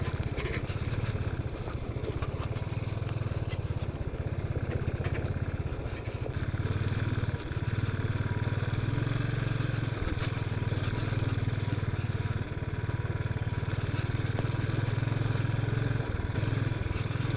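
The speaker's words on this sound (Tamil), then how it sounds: "இப்போ நம்ம ஆற்றுக்குள்ளே தான் வண்டி ஓட்டிகிட்டு போயிட்டுருக்குறோம்." A vehicle driving through a river over stones in Ladakh, its engine droning steadily and loudly throughout with occasional clatter and splashing underneath.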